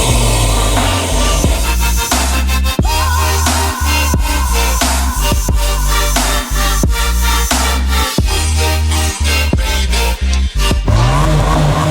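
A Hyundai RM19 mid-engine prototype revs hard and drives, its loud engine note climbing and dropping through repeated gear changes and throttle blips, close and continuous with no talking.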